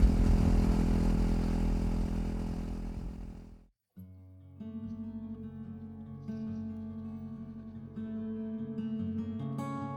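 A Royal Enfield Himalayan 450 motorcycle engine runs close by with a loud, rough broadband roar that cuts out abruptly, then returns as a steadier, more tonal running note with shifting revs.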